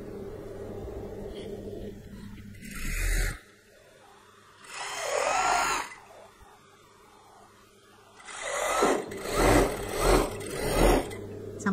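A sewing machine stitches the side seam of palazzo pants, running in several loud bursts of rapid mechanical whirring separated by quiet pauses.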